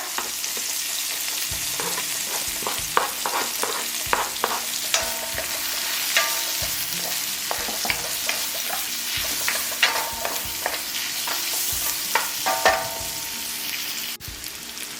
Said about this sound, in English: And then we're gonna add the garlic and the ginger.